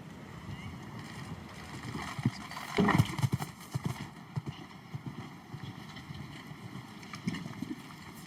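Horse hooves clip-clopping through a show jumping round at a Nations Cup arena, a steady drumming rhythm with a louder burst near the middle, under faint crowd and commentary ambience.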